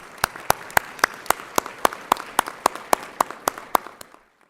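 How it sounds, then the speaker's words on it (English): Graduates at a spring college commencement clap for themselves, producing a run of sharp, evenly spaced claps. Some sound close, others sit over a softer crowd patter, and everything stops abruptly near the end. "Give yourselves a round of applause, would you please?"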